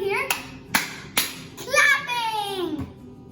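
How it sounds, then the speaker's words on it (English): Several sharp hand claps ring out at an uneven pace in a quiet room, with a voice speaking between and around them. "clapping."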